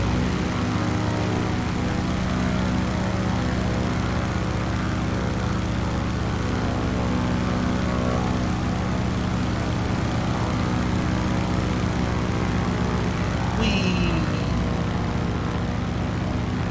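A formation of three propeller warbirds in Microsoft Flight Simulator drones steadily with a loud, sustained engine hum and a brief whooshing swell near the end, no talking.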